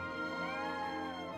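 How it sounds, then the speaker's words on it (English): A cat in the video game Triangle Strategy lets out a single drawn-out, gliding meow, close and clear with no talk over it. "That is a cat!"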